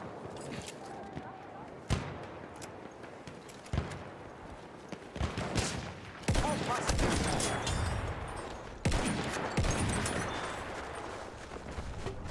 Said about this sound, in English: Guy's still shooting right over my head.